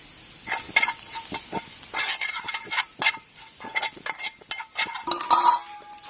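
Tapioca stirred with chilli powder, coriander powder, chicken masala and pepper in a pan at a solo camp, brisk irregular scraping and metallic clinks of a spoon over a light sizzle, close and lively, no speech.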